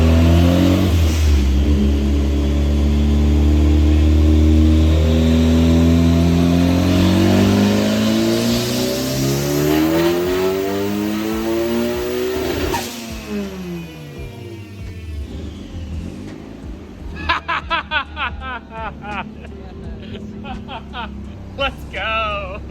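A high-compression turbocharged 1.6L Miata engine revs hard on a dyno, a loud rising wail that peaks, drops off, and gives way to crackling pops, with people talking over it.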